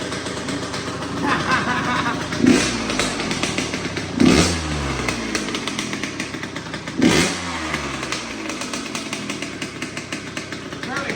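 A Kawasaki KX 85 dirt bike engine, in terrible condition after a top-end rebuild, running with a buzzy two-stroke rattle and three sharp revs rising and falling, close by, with talking partly underneath.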